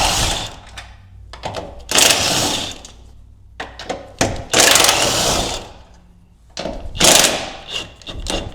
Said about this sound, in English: remove these 4 nuts at the top here, and these are going to be a 13 millimeter